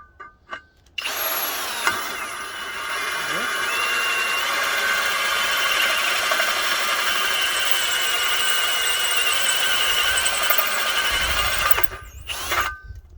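A drill cutting aluminum on a lathe whines steadily for about ten seconds, a loud continuous mechanical grind with a high squealing edge, starting and stopping abruptly.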